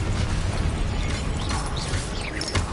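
A Confringo spell blast in Hogwarts Legacy, a burst of fiery explosive crackle and clattering impacts filling a short stretch of combat, loud and dense with sharp pops near the end.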